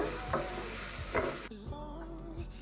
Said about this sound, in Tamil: இதுலேயே ஒரு பெரிய வெங்காயம் அரிஞ்சு வச்சுருக்கேன் இல்லைங்களா, அதை போட்டுடுவோங்க. வெங்காயம் வதங்கணுங்க, கொஞ்சம் வதக்கட்டுங்க.